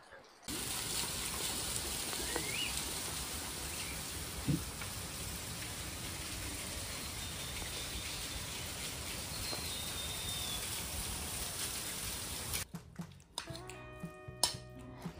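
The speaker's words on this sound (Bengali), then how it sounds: "সো এখন বৃষ্টি হচ্ছে" Steady rain falls in the hills at Lamahatta, a dense continuous hiss of drops on surfaces that holds evenly for about twelve seconds before breaking off into a few brief, scattered knocks.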